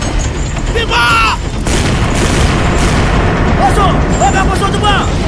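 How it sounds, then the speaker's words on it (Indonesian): Cannon fire in a battle scene from a historical colossal drama about Admiral Malahayati, a loud booming blast heard amid continuous heavy battle noise, with shouting voices mixed in. "Bersiap meriam raya."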